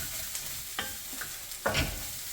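Egg hakka noodles stirred and tossed in a hot pan, a steady frying sizzle with a few scraping clatters of the spatula, the loudest stir near the end, close and with no talk.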